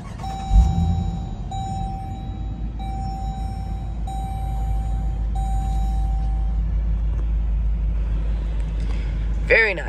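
A 2022 Dodge Durango RT with a Hemi engine starts at the push of a button with a short thump, then settles into a steady low idle rumble while a repeating electronic chime sounds and a brief voice is heard.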